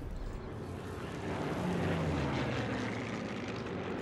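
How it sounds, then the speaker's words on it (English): A propeller airplane drones overhead in the video game Sniper Elite III, a steady engine hum with a low sliding pitch that swells and holds near and loud throughout. "Take a shot when the plane flies over"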